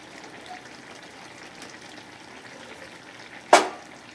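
Coriander and cumin powder hitting hot oil for a rohu fish curry with potato and Malabar spinach, a single sudden sizzling hiss after near quiet, then fading quickly.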